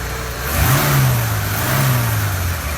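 A 1967 Chevelle six-cylinder engine with a smog pump runs close by with a low, steady hum that swells slightly as it revs, then settles back to a smooth idle.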